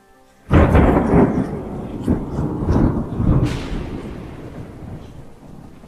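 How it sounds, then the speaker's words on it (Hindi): Heavy rain arriving in a cartoon story, a loud sudden rushing downpour with rumbling, thunder-like swells that hold strong for several seconds and then slowly ease. "थोड़ी देर बाद जोरों की बारिश शुरू हो जाती है"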